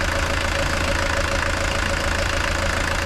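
A Mercedes diesel engine that won't shut off keeps running, a steady close idle with a low rumble and a faint knocking texture, constant for the whole stretch with no voices.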